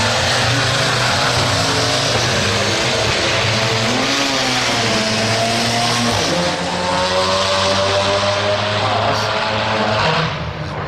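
Drag race at a Sydney Euro motor festival, a Golf with big fat front tyres against a turbo ute: loud, continuous engine roar with rising revving pitch sweeps, steady and close, no talk.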